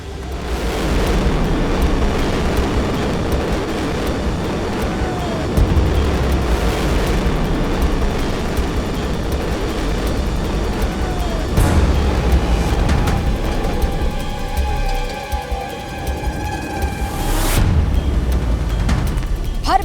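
A deep, sustained rumbling roar of the Twin Tower buildings collapsing after demolition blasts, with booming surges and a heavy low-end wash throughout.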